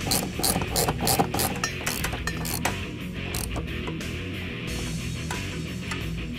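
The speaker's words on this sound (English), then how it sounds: "we'll tighten down the nuts that are holding the bracket to the floor" Ratchet tightening the nuts that hold a Barton Industries short throw shifter bracket to the floor of a 2011-2014 Mustang: rapid close clicking strokes in quick bursts, slowing into lighter ticks, with no talk.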